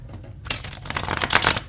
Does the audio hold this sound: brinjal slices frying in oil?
no